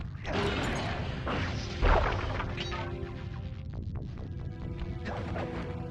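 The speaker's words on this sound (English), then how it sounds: "Break me out of this force field by smashing its base" Hits on a force field's base in the Sly Cooper and the Thievius Raccoonus video game, a loud crashing smash followed by clanking mechanical sounds and rumbling game effects under continuous music.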